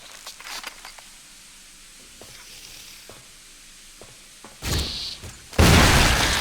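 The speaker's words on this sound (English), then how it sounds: "Whoa, that was an explosion." An explosion in a video game: a few seconds of quiet rustling and clicks, then a sudden loud blast of broadband noise that roars on to the end.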